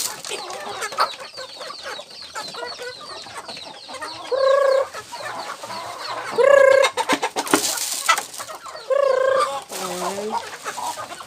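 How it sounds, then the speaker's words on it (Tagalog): Hungry farm chickens clucking and squawking while being fed cracked corn, a dense flock chatter punctuated by several louder drawn-out calls close by. "Pakainin natin yung ating mga alagang manok kasi gutom na ang ating mga alagang manok."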